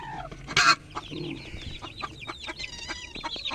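A hen clucks close by in a string of short, chattering calls, with other chicken sounds and a brief sharp noise early on.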